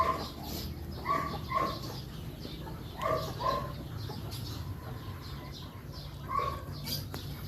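Fighting cock breed chickens clucking and calling nearby in short, intermittent bursts over a steady low background hum.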